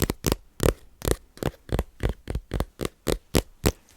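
Fingertips tap on a deck of oracle cards, making about fourteen crisp, close knocks in a fairly even, quick rhythm with quiet gaps between them.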